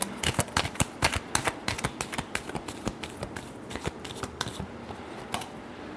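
A deck of cards being shuffled for a tarot-style reading, a quick run of crisp riffling and snapping flicks in rapid succession, close and fairly quiet, with no one speaking.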